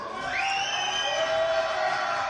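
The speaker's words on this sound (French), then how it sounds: "Merci pour tous vos applaudissements" A French television studio audience cheers and whoops in a sustained roar, with rising shouted voices carrying over the crowd noise at a steady, fairly loud level.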